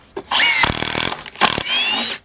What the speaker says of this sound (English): This impact driver is for drilling only, so I can't really do much of the test on this one.